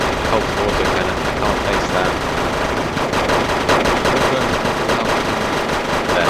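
Dense, loud Mauser rifle fire from infantry in the war game Wargame: AirLand Battle, continuous overlapping shots forming a constant roar with a faint voice underneath.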